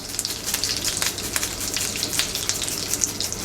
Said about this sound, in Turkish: Bir diş sarımsağı eriyorum tereyağına